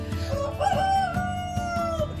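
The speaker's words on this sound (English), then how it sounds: "And my rooster, he's making himself known finally." A rooster crows once, long and drawn out, close by and loud, with faint farmyard clucking around it.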